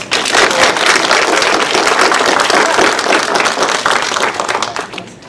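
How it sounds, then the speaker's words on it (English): A large audience at a science award ceremony breaks into sustained, dense applause that holds steady and loud for several seconds before tapering slightly at the end. "big round of applause"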